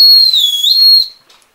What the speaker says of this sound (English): the first thing I'll show you guys is the two-tone survival whistle